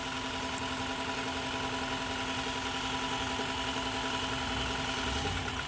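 A 2010 Toyota Camry engine idles with an ignition coil unplugged and misfiring, a steady, close, rough hum with faint uneven vibration and no talk.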